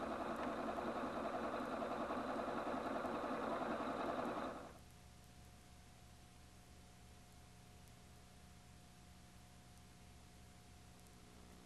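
A Husqvarna Viking Platinum 770 sewing machine runs steadily for about four seconds, sewing sleeve and side seams with a dense, even mechanical whir, then stops abruptly, leaving only a quiet background hum.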